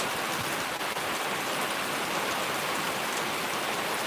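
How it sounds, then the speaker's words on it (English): Light rain falls steadily outdoors as a dense, even hiss, soft and continuous with no voices. "think it's raining a little bit."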